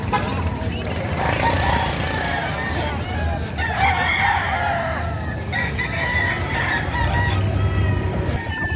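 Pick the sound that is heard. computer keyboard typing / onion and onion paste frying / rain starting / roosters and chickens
roosters and chickens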